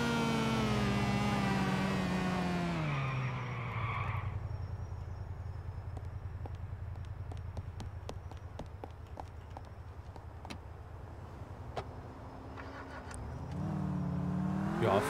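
A car engine in GTA 4 runs loudly and then drops into a steady low drone while driving, with scattered sharp clicks and knocks throughout and a rising engine surge near the end.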